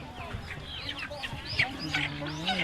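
Several chickens cluck and squawk close by at a busy, noisy market in Sepon, Savannakhet, Laos, where live chickens are sold, with a voice talking underneath.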